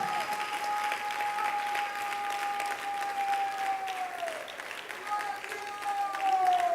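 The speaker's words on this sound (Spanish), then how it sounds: "dele un aplauso al Rey de la Gloria" An audience at an evangelical church service claps steadily for the King of Glory, a sustained wash of applause lasting throughout, with a long held musical tone gliding beneath it.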